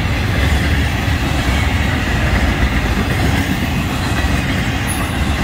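Florida East Coast Railway train FEC 107 rolls by close at hand, a dense, steady roar of wheels and rail rumble filling every moment with no pause.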